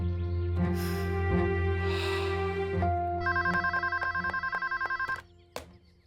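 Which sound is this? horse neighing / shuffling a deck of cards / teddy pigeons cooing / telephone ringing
telephone ringing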